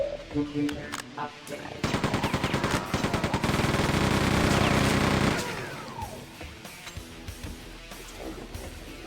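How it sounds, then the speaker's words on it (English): Chain gun firing in Quake II, a rapid, loud mechanical burst that spins up and hammers continuously for several seconds before cutting off, with game sounds around it. "Chain gun kind of sounds like multiples of itself somehow."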